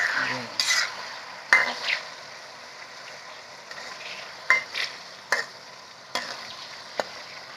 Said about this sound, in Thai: ทอดไปสักพักครับคั่วสิคั่วให้น้ำมันมันออก